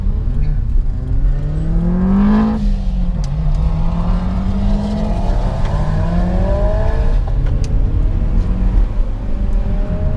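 A modified Japanese car engine drones loudly from inside while driving on twisty technical roads, its pitch climbing and falling through gear changes with steady road and wind roar underneath.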